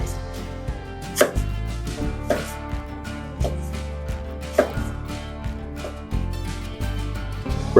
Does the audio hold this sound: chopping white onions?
yes